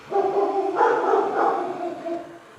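Dogs barking indoors at someone leaving, two or three close, loud, drawn-out barks that run together, with no voices.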